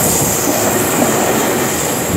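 A KRL Commuter Line JR205-series electric train bound for Nambo station rumbles steadily past at close range, loud broadband rail noise with faint wheel squeal and clickety-clack, no voices.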